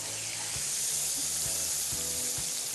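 Chicken pieces coated in starch frying in hot oil in a pan, a steady close sizzle and crackle with faint rhythmic clinks from a utensil, no talking.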